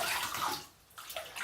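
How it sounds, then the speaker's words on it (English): Water runs steadily from a tap during rinsing, a continuous splashing hiss that dips briefly in the middle before resuming, with no talking. "Let's rinse."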